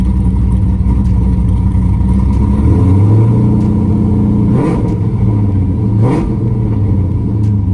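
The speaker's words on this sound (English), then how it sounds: "So I don't really like to rev it when it's cold." A Chevrolet Camaro engine revved briefly while still cold, with a loud steady idle rumble that rises and falls in two or three short blips, close by, without talking.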